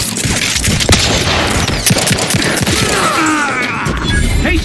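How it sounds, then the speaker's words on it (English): Dense, chaotic battle noise in the video game The Outer Worlds 2, with a grenade blast amid repeated sharp booms and crashes, loud and close, with constant rumbling throughout. "Grenade! Away!"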